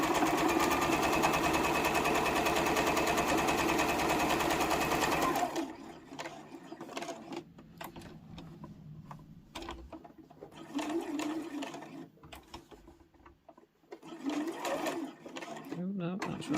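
A sewing machine stitches quilting lines across fabric for a small boxed pouch, running loud and steady for about five seconds, then falling to quieter, intermittent bursts of stitching and handling under a speaking voice.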